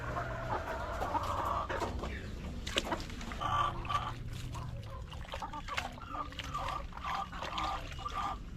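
Several chickens cluck continuously up close while being bathed, with a rooster-like call rising now and then over a soft background trickle of water.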